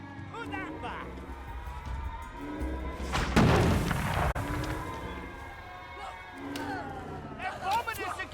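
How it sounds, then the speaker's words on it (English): A heavy bombing explosion in We Happy Few, a single deep booming blast with rumble rising over crowd chatter and voices, then fading back under continued talk. "They're bombing us again!"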